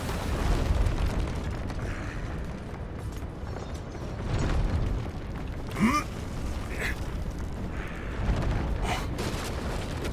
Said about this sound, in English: Goes the dynamite!